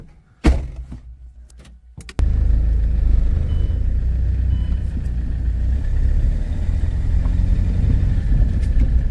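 A car engine rumbles steadily from inside the vehicle on a farm trip, preceded by a sharp thump like a door closing before the continuous low drone of driving takes over.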